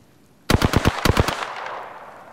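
A burst of rapid automatic gunfire erupts in a video game: two quick strings of sharp, loud shots, each followed by a brief echoing tail that fades away.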